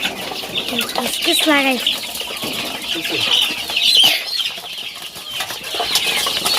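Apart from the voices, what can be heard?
many chicks feeding and peeping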